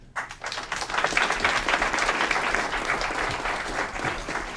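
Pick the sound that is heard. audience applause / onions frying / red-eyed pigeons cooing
audience applause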